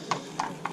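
A big, angular racehorse walking in a parade of horses, hooves clip-clopping in three evenly spaced, fairly close steps on a firm surface, with faint background murmur.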